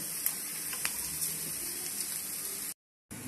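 Sliced onion sizzling in hot oil in a pan for a soya cutlet, a steady close hiss with small crackles, broken by a brief silent gap near the end.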